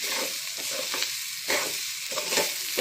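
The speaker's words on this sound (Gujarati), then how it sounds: "હવે તેને થોડો શેકી દઈશું" Crushed green peas mixed with salt, coriander-cumin powder and gram flour sizzle and crackle as they roast in a hot pan, with a spoon scraping and stirring at a steady rhythm throughout.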